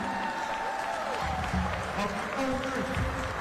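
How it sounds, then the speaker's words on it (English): An audience at a Fort Worth welcome party for FIFA fans applauds in a steady wash of clapping, mixed with crowd noise and voices. "Let's give him a round of applause."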